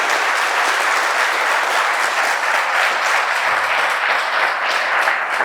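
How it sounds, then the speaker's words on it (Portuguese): A church congregation applauds loudly and steadily throughout, a dense continuous wash of clapping from many people with no pauses. "Vamos aplaudir bem forte o nosso Deus."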